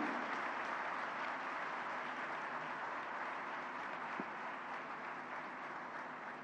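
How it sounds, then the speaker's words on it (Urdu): An audience at a ceremony for the Governor of Sindh gives steady, continuous applause that stays fairly even in loudness throughout. "تو ان کے لیے بھی بہت زوردار تالیاں ہونی چاہیے"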